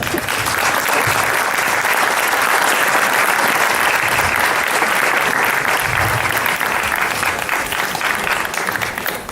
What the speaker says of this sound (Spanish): les pediría, por favor, un pequeño aplauso para ellos